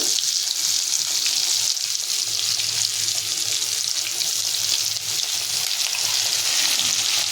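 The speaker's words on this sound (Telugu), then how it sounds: "ఇలా మీడియంలో పెట్టుకొని 2 వైపులో కూడా ఈ వంకాయ ముక్కలు బాగా కాల్చండి" Spice-coated eggplant pieces frying in oil over medium heat give off a constant hissing sizzle, bright and even, like running water, heard close with no talking.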